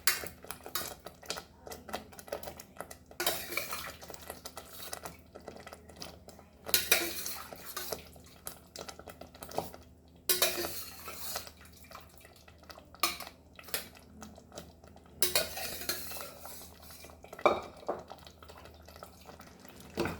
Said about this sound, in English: Mix this nicely